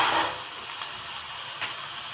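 Fenugreek leaves fry in hot oil with a steady, soft sizzle, a brighter burst at the start and small crackles and stirring touches throughout; no one speaks.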